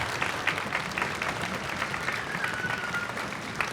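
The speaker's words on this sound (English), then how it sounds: "Please give her a round of applause." A crowd claps steadily in sustained applause, a dense even patter filling the room without any talking.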